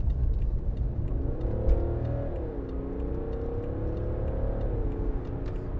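A 2015 BMW 535d diesel saloon accelerates hard onto a dual carriageway, its engine note rising through the gears with a brief dip at a shift, heard from inside the cabin as a steady, moderately loud drone.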